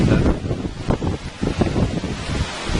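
Strong stream flowing near a partly frozen river in winter thaw: a loud, rushing wash of water mixed with heavy gusty wind buffeting, continuous and close, without talk.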